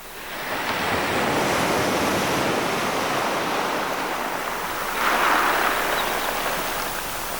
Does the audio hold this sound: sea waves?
yes